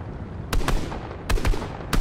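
A tank firing in the video game Fortnite, three sharp booming blasts spaced about a second apart, each with a short rumbling tail over low background noise.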